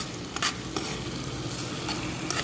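A utensil stirring and mashing cooked tuna in a frying pan, with a constant soft sizzle and a few light scraping knocks of the spoon against the pan, close and steady.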